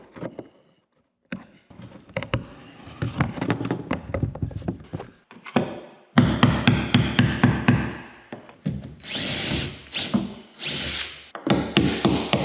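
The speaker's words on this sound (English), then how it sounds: "I'm just trying to pound them flat and then drill them." A power drill whines in several bursts into metal on a boat, starting and stopping with pauses, mixed with knocking and scraping from close work on a hard surface.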